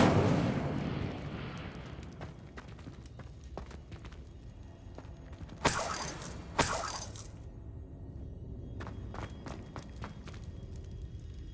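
A fire spell cast in the game Hogwarts Legacy: a low rumbling roar is punctuated by two sharp, bright bursts midway, followed by scattered crackling snaps and a lingering background rumble.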